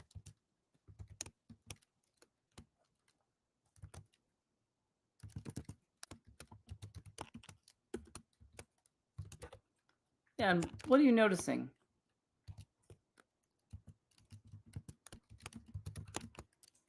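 Close, crisp keystrokes on a computer keyboard in bursts of quick clicks while someone writes HTML and CSS in a text editor, with short pauses between runs and one brief spoken question partway through.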